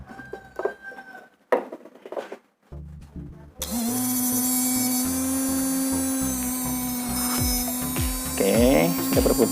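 An RS 380 DC motor rated around 11,000 rpm spins up under a performance test, settling into a steady, close high-pitched electric whine with a buzzing hum after a few short clicks and rattles.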